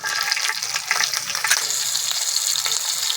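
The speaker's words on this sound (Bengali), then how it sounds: "দুটো কাঁচা লঙ্কা ছিঁড়ে রেখে দিয়েছি দিয়ে দিলাম" Two torn green chillies drop into hot mustard oil left from frying fish, with black cumin seeds already tempering, producing a steady, loud, close sizzle for about three seconds with no voices.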